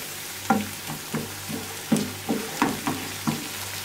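Crushed garlic sautés in a pan for kısır, a spoon scraping and tossing in about eight rhythmic strokes over a low sizzle, close and moderately loud with no talking.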